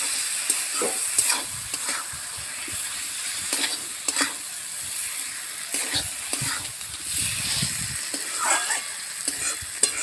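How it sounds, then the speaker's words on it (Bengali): Spice masala with a splash of water stirred and fried in a pan for an egg curry, a steady close sizzle broken by repeated scraping strokes of the spoon, moderately loud and without talk. "অল্প জল দেবো, দিয়ে আমি মশলাটা ভালো করে কষিয়ে নেব।"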